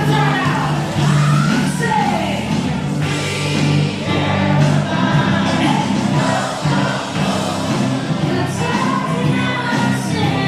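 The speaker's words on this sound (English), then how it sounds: "there was actually a duo there, vocalist and accompanying musician, and the crowd seemed to be enjoying that" A live vocalist and accompanying musician play in the Grand Plaza of a cruise ship while a crowd chatters and cheers around them, music and voices blending into a busy, steady din.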